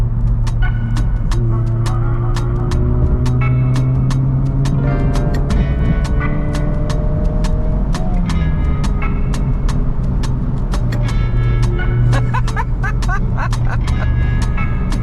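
Exotic performance car on a Las Vegas street blipping its engine through downshifts, with stepped pitch changes and sharp popping crackles over steady traffic noise, loud and near, and people's voices mixed in.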